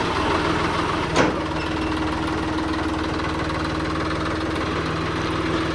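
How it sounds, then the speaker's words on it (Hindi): A John Deere 5050 diesel tractor engine runs steadily after starting, a constant close mechanical drone with a brief sharp click near the start. "तो भाई बिना किसी समस्या के ट्रैक्टर चालू हो गया है।"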